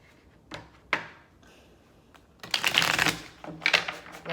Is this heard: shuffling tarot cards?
yes